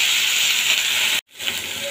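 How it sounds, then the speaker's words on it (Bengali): Spring onion greens and mixed vegetables fry in a hot pan with a steady, close hiss, broken by a sudden brief silence before the sizzle picks up again. "দেখুন খুব সুন্দরভাবে সবজিটা ভাজা ভাজা হয়ে গেছে আর একটু মজেও গেছে"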